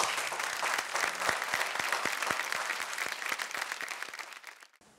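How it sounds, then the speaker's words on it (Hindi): Loud audience applause in a television studio, a thick continuous wash of many hands with a few sharper claps, holding steady before fading away at the end. "दोस्तों, इनके हिम्मत और हौसले के लिए जोरदार तालियां।"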